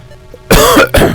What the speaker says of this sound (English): Oh, that was a bad time to cough, wasn't it?